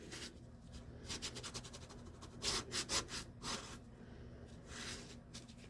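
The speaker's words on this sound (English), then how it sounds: "And I'm going to fold that over and press it down really well." A glued paper card flap is folded over and pressed down firmly, giving soft, close rubbing and scraping strokes in irregular bursts, with no voices.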